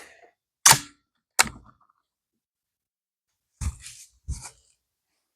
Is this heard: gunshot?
yes